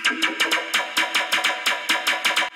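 A pulsing synth bass loop, about a dozen evenly spaced hits in a steady rhythm, loud and buzzy with no voices.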